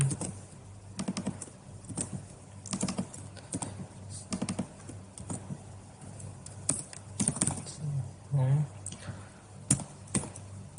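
Close computer keyboard typing in short clattering bursts and single key taps, with a few quiet pauses between runs of keystrokes while copying and pasting code.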